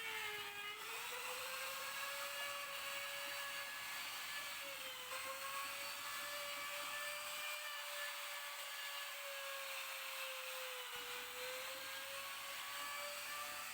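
A wood router riding on a router sled flattens an end-grain wood surface, a loud, sustained high-pitched whine with slight dips in pitch as the bit bites, running alone throughout.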